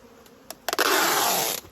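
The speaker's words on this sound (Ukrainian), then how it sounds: "Щілина є і бджола полізла." Honey bees buzz close by at a hive, a few faint clicks giving way to a loud, sustained burst of buzzing for about a second before it drops away.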